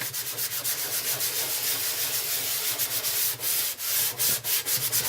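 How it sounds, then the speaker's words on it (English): Nylon scourer scrubs stubborn stains inside a dirty oven, a loud, close, continuous rasping rub with quick back-and-forth strokes that quicken toward the end, no voices. "on the patches that haven't gone, you can now put a bit more effort and give it a bit of a scrub"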